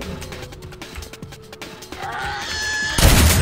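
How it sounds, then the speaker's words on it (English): A default shotgun in a first-person shooter fires a few sharp blasts amid scattered combat noise, ending in a loud, close burst. "the default shotgun kicks ass."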